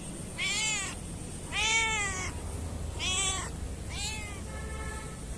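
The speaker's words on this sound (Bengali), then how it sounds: "বিড়ালটাকে ঘরের ভিতরে নিয়ে যাই" A cat meows four times at a steady pace, each call clear and fairly close over a quiet background, with no speech.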